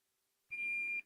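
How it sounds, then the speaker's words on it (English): A single quiz buzzer sounds at a campus quiz competition, a short, steady electronic tone of about half a second in an otherwise quiet room. "You press the buzzer."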